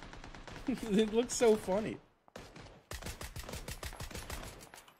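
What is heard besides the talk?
gunfire in the video game PUBG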